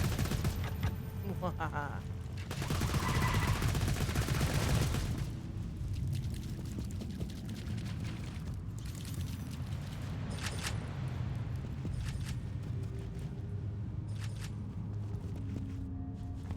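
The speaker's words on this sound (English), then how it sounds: "I'm using the magic missile on unlimited" Magic missile spells cast repeatedly in the looter-shooter Borderlands 2, a dense volley of blasts and booms in the first seconds, then scattered lighter bursts. A voice laughs and speaks over the action.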